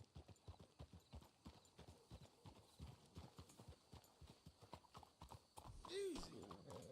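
Rapid, steady clip-clop of several horses' hooves in Red Dead Redemption 2, close and rhythmic, with a horse whinnying briefly near the end and character dialogue over the top.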